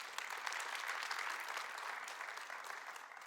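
Church congregation applauding together in a sustained, dense burst of many hands clapping, steady and fairly close throughout without a break, no voices standing out.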